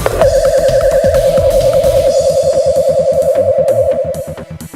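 A loud warbling all-clear safety alarm tone wavers rapidly at a steady pitch for about four seconds, then cuts off, leaving faint background noise.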